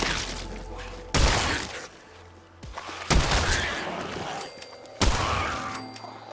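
Legendary pistol firing exploding bullets in Fallout 4: three loud, sharp blasts roughly two seconds apart, each bursting with a crackling, shattering tail over a low rumbling background.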